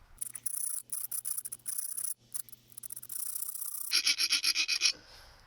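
A hand file rasps repeatedly across a hardened Kohler recoil starter part, with short uneven bursts of scraping strokes that get brighter and more regular near the end, close up and alone.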